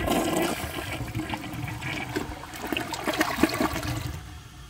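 A 2007 Kohler Highline Ingenium toilet flushing with a short flush, a close rushing gurgle of water that swirls and drains, then tapers off at the end.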